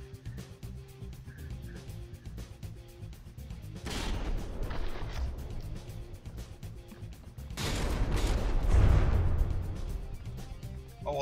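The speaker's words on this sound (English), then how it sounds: "The force of those explosions once again doing strange and powerful things." Booming ship-weapon explosions and crashing gunfire in From the Depths burst out in two heavy waves, the second louder and deeper, over a steady rumbling background of game noise.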